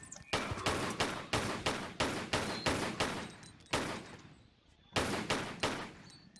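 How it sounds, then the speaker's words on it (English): A harpoon gun fires at a bat in a Tomb Raider 4 custom level, giving rapid bursts of sharp, loud, repeated shots in several volleys separated by short pauses, with no voices. "Can't be making videos trying to shoot bats with a harpoon gun"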